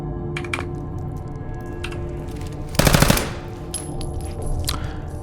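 An automatic pistol in Fallout 4 fires one rapid burst of shots, close and loud, amid quiet game sounds and light clicks.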